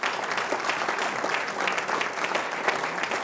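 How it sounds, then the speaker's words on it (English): Applause from a dinner audience at an honorary degree dinner: dense, steady clapping from many hands in a room, sustained and fairly loud with no break. "Let's give her a round of applause."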